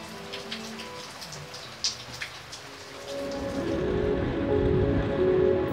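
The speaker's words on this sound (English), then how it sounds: "in the end, it was the rain that scared us away." Steady rain falls on a rooftop of an abandoned city-centre hotel, a dense continuous hiss that swells louder halfway through, with scattered drop taps and no voices.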